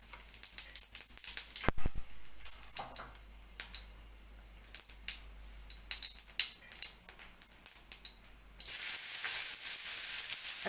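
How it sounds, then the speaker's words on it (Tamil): Cumin seeds temper in a little hot oil, crackling with scattered sharp pops and ticks up close, then a denser steady sizzle rises over the final seconds. "அதுக்கு கொஞ்சமாக எண்ணெய் ஊற்றிட்டு அதில் சீரகம் தாளிச்சிக்கலாம்."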